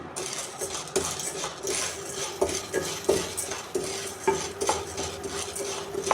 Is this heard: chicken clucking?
no